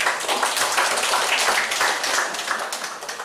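Audience clapping at a village youth organisation (Karang Taruna) inauguration ceremony in Indonesia, dense continuous applause from a crowd filling the room throughout.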